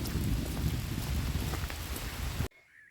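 Rain falls steadily through the trees of a forest during a sun shower. The dense, even patter runs loud and unbroken, then cuts off abruptly near the end.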